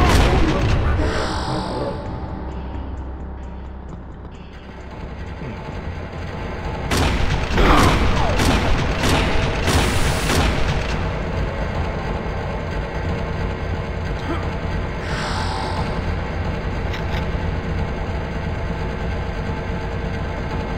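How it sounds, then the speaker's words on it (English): Terminator shotgun blasts in the PC shooter Turok Dinosaur Hunter, a cluster of loud booming shots in quick succession over a steady droning game background with ongoing talk. "Ooh, this is a Terminator shotgun."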